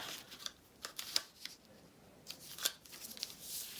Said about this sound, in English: I can just tear it that way.